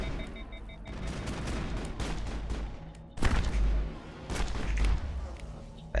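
Gunfire from a weapon in the Mass Effect video game: sharp, loud bursts of shots stand out from a steady background of combat noise, coming in clusters a second or so apart.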